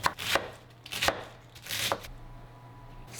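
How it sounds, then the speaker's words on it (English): A knife cores half of a large Savoy cabbage with four or five crisp, close chopping cuts in a loose rhythm, followed by a quieter pause and faint background hum. "Begin by decoring the cabbage."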